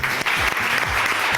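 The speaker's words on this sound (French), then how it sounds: "Pour Lips, la candidate numéro 2 qu'on va encore applaudir une fois." Studio audience applauding a contestant on a French television talent show, a dense steady wash of clapping throughout with a host's voice faintly underneath.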